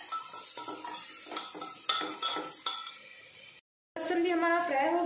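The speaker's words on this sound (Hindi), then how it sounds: "इसे 1 मिनट तक चला लेंगे हम।" A spoon stirs onion with ginger-garlic paste in a pan while cooking Sindhi dal dhokla, giving repeated metallic scrapes and clinks in a steady rhythm, close and fairly quiet, with a soft sizzle behind.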